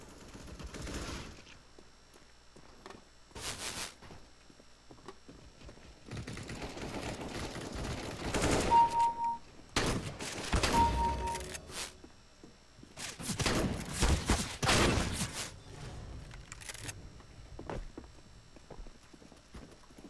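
Gunfire in the shooter game CS:GO, scattered bursts of rapid shots with quieter gaps between, moderately loud, mixed with footstep-like clatter and occasional faint game beeps.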